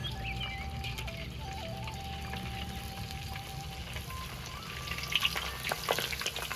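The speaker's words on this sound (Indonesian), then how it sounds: "Sekarang goreng kerupuk gendar." Gendar crackers fry in hot oil, a steady crackling sizzle running throughout at moderate loudness, with a few sharper pops and clinks toward the end.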